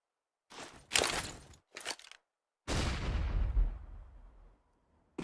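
Gunshots in a Counter-Strike match: a few sharp bursts, then a longer loud blast that decays slowly, with no talk over it.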